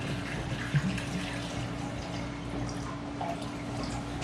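Water poured from a Nalgene bottle into a Jetboil stove pot, just under two cups: a close, continuous trickling splash with faint gurgles, steady from start to finish.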